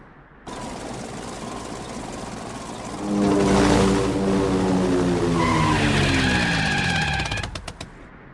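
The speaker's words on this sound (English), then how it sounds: "Daddy Pig landed the aeroplane on the top of the mountain" An engine drones steadily, then swells louder as a cartoon propeller aeroplane approaches and lands on a mountaintop, its pitch shifting as it passes close and settles down.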